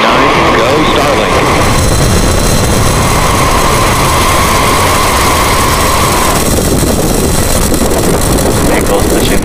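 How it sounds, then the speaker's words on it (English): Falcon 9 liftoff in the Spaceflight Simulator game, a loud continuous roaring engine rumble that fills the whole stretch with steady dense noise and a faint tonal hum above it. "Ignition. Liftoff of the Falcon 9."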